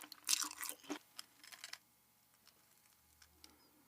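Crunchy bites of crispy Korean spicy fried chicken: a burst of loud, sharp crackling up close at the start, then a few softer crunches that taper into near silence.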